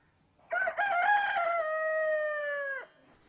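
A single rooster crows once close by, a loud cock-a-doodle-doo with a choppy start and a long held final note, in a quiet setting.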